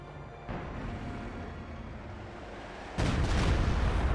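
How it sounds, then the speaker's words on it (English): A KV-2 tank in a video game fires as an artillery piece: a low rumble steps up, then a heavy booming blast hits near the end and rolls on loudly with a dense, sustained roar. "KV-2 is being used as an artillery piece"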